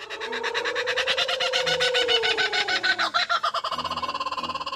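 A kookaburra calls loudly and close by, its raucous laughing cackle built from rapid pulsed notes that rise, peak and tumble into choppier bursts, with no talk over it.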